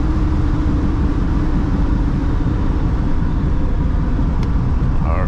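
A car with a small 350 engine drives along at steady speed, its low engine drone and road rumble continuous and fairly loud throughout, with no voices.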